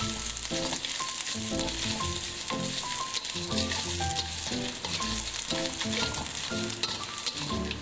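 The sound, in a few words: sautéing shallots, garlic, chili and shrimp paste in hot oil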